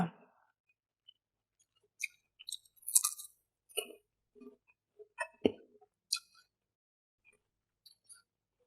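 Crunchy red-fleshed guava being bitten and chewed up close, with sparse, crisp crunching clicks and small mouth sounds spread unevenly in a quiet setting.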